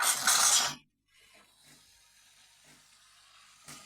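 A Bosch VeroCafe coffee machine steams milk for a latte, opening with a loud, dense hiss for under a second, then settling into a quieter, steady frothing rush with faint gurgles.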